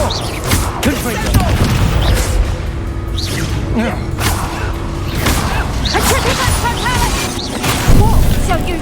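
Confringo blasting spells explode in Hogwarts Legacy combat, repeated loud booms and crashes with whooshes amid busy battle noise, with voices talking throughout.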